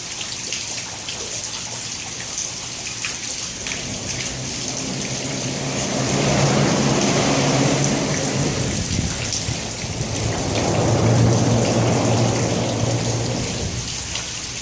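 Steady heavy rain pours down as a thunderstorm eases off, swelling twice into louder rushing surges with low rumbling underneath, no voices.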